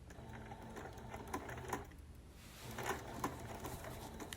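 A sewing machine stitches off a corner of quilt binding, a steady low motor whir running throughout with a few brief clicks and louder bursts, close and moderately quiet with no talking.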